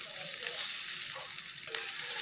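Egg fried rice being stirred in a pan, Hyderabadi street style: a soft, steady sizzle carries a few quiet scraping stirs, one brief clink near the end, close up and fairly faint, with no voices.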